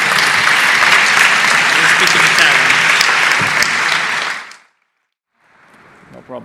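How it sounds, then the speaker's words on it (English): Sustained audience applause at a climate adaptation forum in Bologna as the city's mayor is welcomed to the stage. The clapping is loud and dense for about four and a half seconds, then cuts off to near silence before faint room noise returns. "give him a round of applause"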